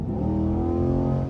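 A Corvette C8 engine revs with a deep, rich harmonic growl, loud and close from inside the car, held steady for just over a second.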